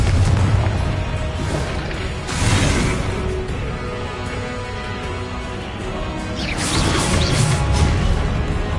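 The Confringo fire spell in Hogwarts Legacy bursts in booming explosions, two heavy blasts with whooshing flame and a rumbling tail, loud and close, no talking.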